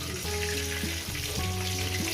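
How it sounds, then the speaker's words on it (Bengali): Fish frying in hot oil makes a continuous loud sizzle, with steady crackling over a background of low humming tones. "সেই মাছগুলো এইভাবেই ভেজে নিই"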